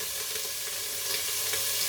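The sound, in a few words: meats sizzling in a pan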